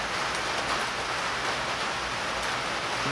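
Steady rain falls outside a garage workshop, a dense, even hiss of drops on a hard surface that holds at a constant level throughout, with no talk over it.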